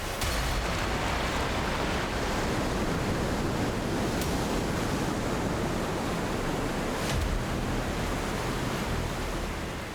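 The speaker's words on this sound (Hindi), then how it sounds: "इस तेज बहती नदी की आवाज सुन सकते हैं" The fast-flowing Alaknanda river rushes out of a glacier mouth with a loud, unbroken roar of churning water, steady and close, with some wind buffeting and no speech.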